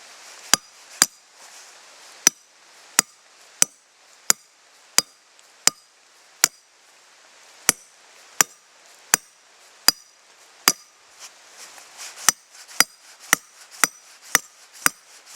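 A steel trap stake is hammered into hard ground for a coyote and fox dirt hole set: about twenty sharp metallic strikes at a steady, slightly quickening pace, close and loud with quiet gaps between them and no talk.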